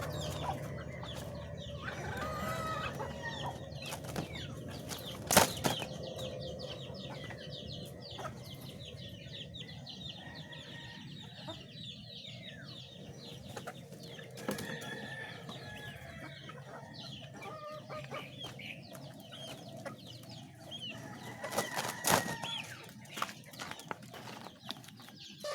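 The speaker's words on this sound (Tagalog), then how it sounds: "Sabayan natin sa pagkakape ang ating mga alagang manok, pagpapakain." Pet chickens clucking steadily while being fed at feeding time, with a rooster crowing now and then, fowl calls layered close and continuous, a few sharp knocks punctuating the flock.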